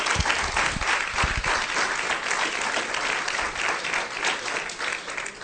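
Loud, sustained applause from a church congregation during a Spanish-language sermon, dense clapping filling the whole stretch evenly with a few sharper claps near the start and no talking over it.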